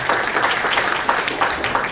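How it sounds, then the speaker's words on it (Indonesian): An audience at a school event applauds the school foundation team, a brief burst of dense, loud clapping from a crowd close by, with no voices over it. "Mari kita tepuk tangan untuk Pak Suwardi dan tim yayasan."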